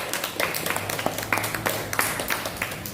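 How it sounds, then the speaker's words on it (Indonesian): Classroom applause for a student group after their presentation, scattered hand claps of moderate loudness spread across the whole stretch, with no talking over them. "Tepuk tangan untuk kelompok 4"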